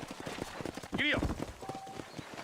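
Horse hooves clip-clopping in a steady rhythm as a rider sets off in the Red Dead Redemption video game, heard under a man's spoken line with a brief neigh.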